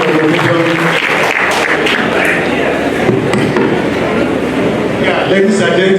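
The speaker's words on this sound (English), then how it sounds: "a bigger round of applause for him" Audience at a medical graduands' induction and oath-taking ceremony claps in a dense, steady round of applause, loud and continuous throughout, with a voice speaking over it.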